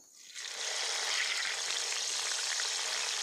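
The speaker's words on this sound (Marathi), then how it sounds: "आपण मिरच्या पण तळून घेऊ" Green chillies deep frying in hot oil give a steady, loud, continuous sizzle that rises within the first half second and holds evenly to the end, with no voices.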